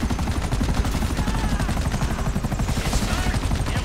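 Rapid, continuous gunfire from Trevor's weapon in Grand Theft Auto 5, dense automatic bursts close and loud throughout with battle noise mixed in.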